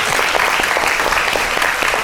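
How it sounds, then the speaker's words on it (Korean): A Korean lecture audience at Jogyesa temple claps in a brief, dense round of applause, steady and loud throughout. "한번 박수 한번 부탁드리겠습니다"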